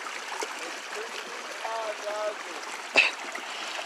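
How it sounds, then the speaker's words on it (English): Stream water flowing high after a night of heavy rain beside a bushcraft camp bridge, a steady soft rushing murmur with a faint splash near the end. "Oh, wow. The water is flowing. After just one night."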